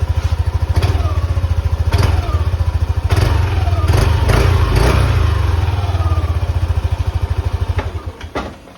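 A Yamaha 155cc maxi scooter engine idles with a steady, close putter, rising in a few quick revs before settling back to a rhythmic idle.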